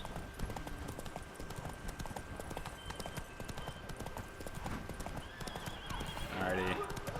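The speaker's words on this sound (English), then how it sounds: "I remember why I hated riding my horse." Horse hooves clip-clop steadily as a rider travels in The Witcher 3: Blood and Wine, with a horse whinny near the end over game ambience.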